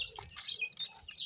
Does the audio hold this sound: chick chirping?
yes